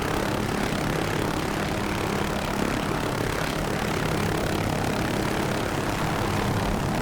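An MH-6J Little Bird helicopter flies in the DCS World simulator during urban special-operations landing training, giving a steady, dense rotor and engine roar that holds loud and unbroken throughout.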